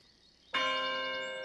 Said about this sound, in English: that's what I call a doorbell